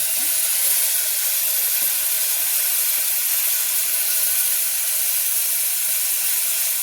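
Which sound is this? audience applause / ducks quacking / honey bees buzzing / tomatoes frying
tomatoes frying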